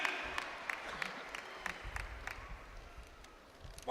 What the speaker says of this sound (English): Give Jesus a clap of praise.